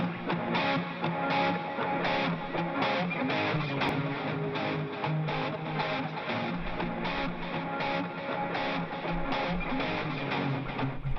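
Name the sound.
reverb effect applied to a music sample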